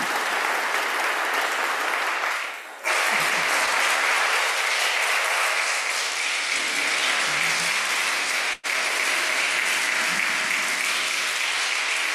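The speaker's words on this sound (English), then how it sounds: "I think you're applauding for my having gotten through it" Audience applause after a speech at a service, a long, loud and steady wall of clapping that carries on unbroken for many seconds.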